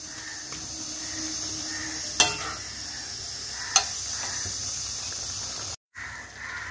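Chilli chicken stirred and fried in a pan, a steady soft sizzle with a couple of sharp utensil clicks against the pan, close and even, no talking.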